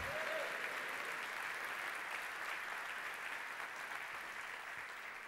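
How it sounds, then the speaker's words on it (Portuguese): Sustained applause from a church congregation, a dense steady wash of many hands clapping that holds at an even level throughout, with no talking over it. "Diga glória a Deus e aplauda o Senhor."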